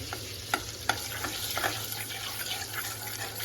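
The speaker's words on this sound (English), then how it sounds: "I have to melt the butter nicely" Butter melts in a pan for butter garlic prawn, giving a soft, steady sizzle with a few sharp pops and light utensil taps, close and quiet, with no talk.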